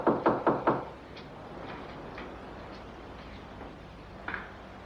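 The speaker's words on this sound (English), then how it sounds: "Someone at the door." Three quick, firm knocks land on a door in a film scene, then give way to quiet room hush with a faint click near the end.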